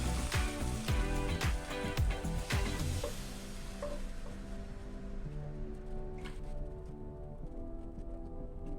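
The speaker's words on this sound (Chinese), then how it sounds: "再把准备好的味噌加进去，味噌要稍微搅拌一下。" Miso being stirred into a simmering Japanese sea bass broth, giving a busy run of clinks and scrapes with a bubbling wash early on, then settling into a softer steady simmer.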